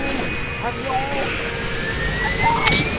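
A passing airplane in the Left 4 Dead video game, a steady droning jet roar that swells slightly as it flies over, heard beneath overlapping game sounds and talk from players.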